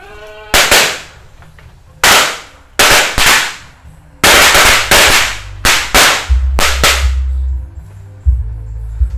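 Firecrackers buried in the ground during Ramadan go off outdoors in a loud series of sharp bangs, some single and some in quick clusters, with rumbling thumps toward the end.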